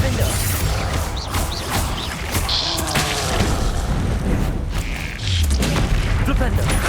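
Booming spell blasts fire off repeatedly in the Hogwarts Legacy video game, Flipendo and Confringo bursts mixed with thuds and crashes, loud and close over continuous game noise.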